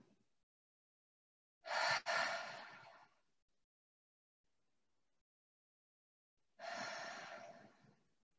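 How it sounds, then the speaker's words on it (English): Deep breaths taken during a yoga goddess squat pose: two slow, close exhales about five seconds apart, each a soft breathy rush lasting over a second, with near silence between. "Breathe. 2 more breaths."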